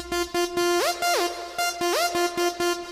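Brassy Logic ES2 synth lead with clipped rhythmic notes, gliding up an octave and sliding back down twice, upfront and alone.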